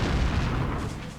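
A German battleship fires a naval artillery salvo in a WWII sea battle, heard as a loud, heavy, rumbling boom that rolls on for over a second with low-end weight, no voices present.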